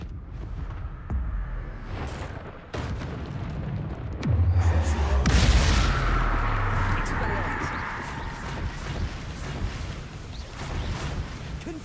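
Confringo blasting spells going off in Hogwarts Legacy, a deep booming explosion swelling mid-clip and rumbling away, with smaller cracking bursts and busy game effects around it.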